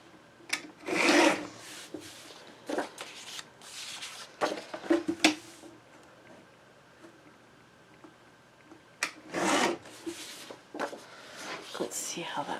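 Paper mat for an 8 by 8 scrapbook mini album being trimmed, giving soft, close rubbing and slicing strokes in short bursts, with quiet pauses and a person speaking softly at times.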